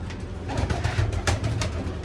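A Lakka pigeon, a Lakka and Shirazi cross kept in a loft, coos close by in soft, low, throaty bursts that repeat in a steady rhythm.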